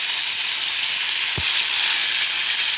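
Silver cup fish hit hot oil, setting off a loud, continuous hissing sizzle that stays steady for the whole stretch, with a single brief low thump partway through.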